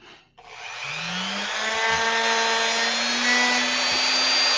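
Dremel rotary tool grinding the plastic of an action figure, a steady high whine that starts after a short pause and holds loud and continuous, pitch rising slightly as it bites into the plastic.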